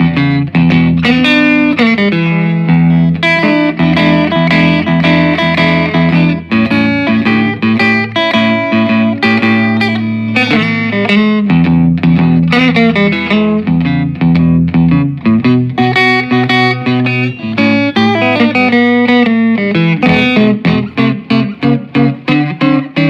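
Distorted electric guitar playing chords and riffs through a 1966 Fender Deluxe Reverb tube amp with reverb, intensity and tremolo off, loud and dry with no echo, continuous for about twenty seconds.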